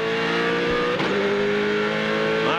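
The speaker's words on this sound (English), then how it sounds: "They're on board with Mark Scaife in the cockpit as he hammers through the gears" Onboard roar of Mark Skaife's V8 touring car at the 1999 Queensland 500, revving hard with a sharp upshift partway through and another rising sweep at the end, loud and close.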